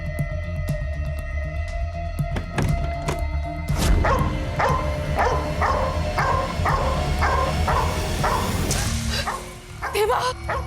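A dog yelps and barks in a repeated rhythmic series of short, sharp calls in a tense indoor drama scene, fairly close and loud, with background score and some voices around it.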